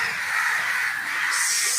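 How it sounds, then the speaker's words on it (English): Crows caw in a steady, continuous chorus outdoors at moderate distance, with the harsh calls overlapping throughout and no voices. "suddenly all the crows are acting like messengers for you"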